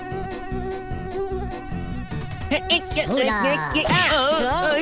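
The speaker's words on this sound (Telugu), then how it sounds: "దోమ వచ్చింది తమ్ముడు, మళ్ళీ దోమ వచ్చింది, అందుకే కొట్టాను." A cartoon mosquito buzzes in a Telugu kids' animation, a wavering whine rising over background music and voices, growing louder and more warbling toward the end.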